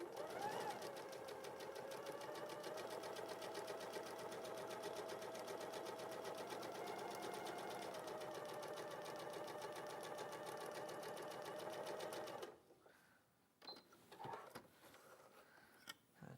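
Sewing machine stitching two rows along fabric at a studio sewing show, a steady loud whirring hum running continuously for about twelve seconds before stopping, followed by quiet handling noises.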